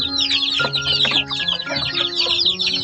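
Several chickens clucking close by, overlapping chatter of short calls continuing throughout with no talking.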